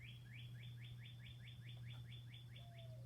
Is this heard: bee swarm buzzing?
no